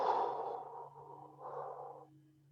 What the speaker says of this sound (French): Donc 2, 3 respirations profondes au départ.